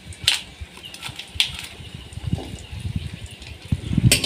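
Sliced okra, dried chillies and chopped onion fry in oil in a wok, giving a soft continuous sizzle and crackle close by, with scattered sharper pops and clatters of the pan.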